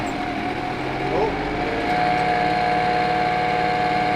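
A tractor cutting matted pasture hay drones steadily with a loud, constant engine roar, its pitch shifting slightly as it labors under the load.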